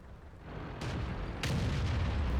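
Tank cannon shots in the World of Tanks video game: two loud, booming blasts about half a second apart, each followed by a sustained low rumble, with no talking.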